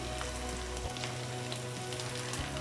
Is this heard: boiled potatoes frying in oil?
yes